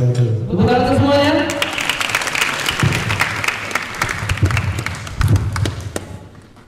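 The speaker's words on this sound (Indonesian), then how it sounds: "Tepuk tangan semuanya." An audience claps at a Ramadan stage show, with loud applause swelling after a voice speaks at the start and then thinning out over several seconds, marked by occasional thumps.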